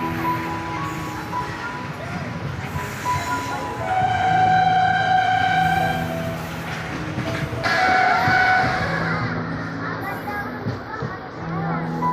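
A train at a railway station, its horn sounding in long sustained blasts over rumbling rail noise and background voices of people talking.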